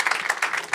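Brief burst of audience applause at a live French-language hockey podcast taping, quick pulsing claps.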